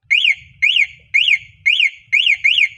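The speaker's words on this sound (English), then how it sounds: "You just press it, it will produce an alarm sound." Find-my-scooter alarm on a Megtron Grace electric scooter, triggered from the remote key: six loud, close, shrill electronic chirps, each a quick rising-then-falling sweep, repeated at a steady pace with short gaps, no speech.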